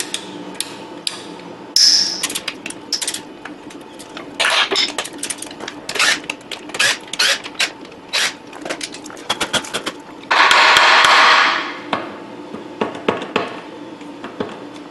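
A ratchet loosens the bolts on a Jeep manual transmission shift tower: loud, close bursts of clicking pawl strokes with short pauses between them, plus a brief whirring spin near the end.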